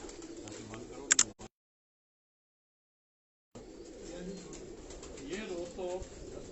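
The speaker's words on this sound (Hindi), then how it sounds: "ये कबूतर जो है मुझे पसंद आया, मैंने गुड्डू भाई के हाथ से लेके" Pigeons cooing softly close by, with a brief sharp noise and then a gap of silence before the low murmuring coos resume.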